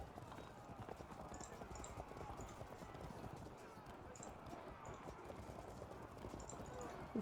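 Many hooves pound in a dense, continuous drumming of galloping light horse cavalry in the video game Field of Glory II: Medieval, with bits of talk mixed in underneath.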